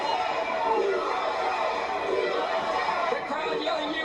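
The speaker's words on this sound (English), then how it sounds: "The crowd yelling USA" A wrestling event crowd chanting and yelling, a dense, steady roar of many voices filling the hall throughout.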